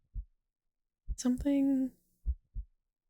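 A video game heartbeat thumps in low, heavy double beats, close and steady, with a short spoken word breaking in between the beats.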